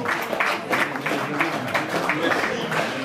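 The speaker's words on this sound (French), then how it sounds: "On peut les applaudir, c'est leur deuxième participation." Dense, steady applause from an audience for returning participants at an outdoor Tour de l'Aude 2022 gathering at a château, a continuous wash of many hands with a few sharper pulses and faint voices mixed in.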